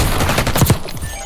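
Rapid automatic gunfire in the Black Ops 6 Warzone video game, a loud close burst of several shots over dense battle noise.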